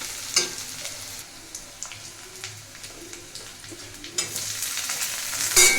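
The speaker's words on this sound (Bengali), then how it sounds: "অ্যাড করে টমেটো কুচি এটাকে একটু ভালো করে নাড়াচাড়া করবো" Chopped tomato being stirred into browned, sizzling onions for a chicken curry, with continuous frying hiss and repeated scraping strokes of a spatula close up, no voices.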